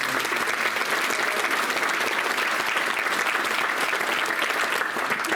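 Steady, dense applause from a large crowd at an alumni awards luncheon, loud and continuous throughout with no pauses.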